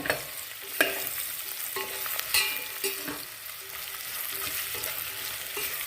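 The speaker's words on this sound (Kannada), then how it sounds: "ಚೆನ್ನಾಗಿ ಉರಿಬೇಕು ಈ ಎಣ್ಣೆಲೇ ಹಾಗಲಕಾಯಿ ಒಂದು ಅರ್ಧ ಬಾಡೋಗ್ಬೇಕು" Bitter gourd and onion fry in oil in a pan, a steady sizzle broken every second or so by the scrape and clack of a spoon stirring, close and unaccompanied by speech.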